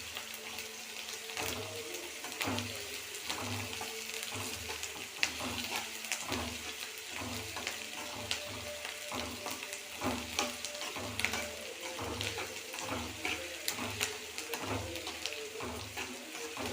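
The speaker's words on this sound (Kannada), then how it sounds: "ಈರುಳ್ಳಿ ಹಾಕಿದ್ದೀನಿ ಚೆನ್ನಾಗಿ ಮಿಕ್ಸ್ ಮಾಡಿ ಬ್ರೌನ್ ಕಲರ್ ಬರೋವರೆಗೂ ಹುರಿಬೇಕು" Onions frying in a pan until brown for a rice dish, a continuous close sizzle broken by repeated scraping stirs, with watery crackle throughout and occasional faint voice.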